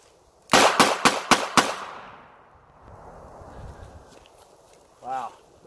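Five sharp, loud gunshots come from a 586 revolver in a quick, even string during a cold-weather concealed-carry drill outdoors, each cracking close by and trailing off. A voice is heard briefly afterward.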